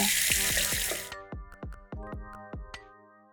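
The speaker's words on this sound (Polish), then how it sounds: "Nałóż trochę żelatyny do małej miski i dodaj zimnej wody." Cold tap water pours into a small bowl of gelatin for about a second, then cuts off, followed by several ringing drips and clinks.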